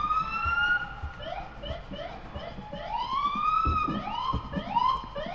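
A police siren wails with long rising and falling sweeps, overlapping itself at moderate distance, while low thumps and scattered background sounds run beneath it.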